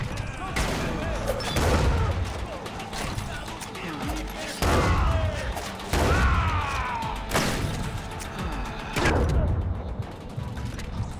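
Gunfire from a 12-gauge shotgun in the video game Far Cry 4 cracks out in about five loud, sharp blasts spaced a second or two apart, with mechanical clatter and game action filling the gaps.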